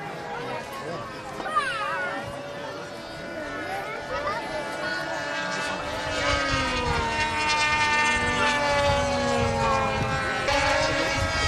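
Radio-controlled model airplanes racing laps at an SCCMAS airshow, their engines droning in steady rising and falling whines that sweep past continuously, with someone commentating over them throughout.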